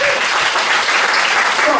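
A concert audience at a performance by an Amis music band breaks into loud, dense applause, a continuous close wash of clapping from start to finish.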